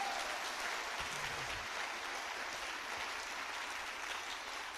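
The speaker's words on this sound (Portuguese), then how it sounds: "Aplauda forte." Church congregation applauding during a sermon, a distant continuous patter of many hands that stays fairly faint and steady, with no voices over it.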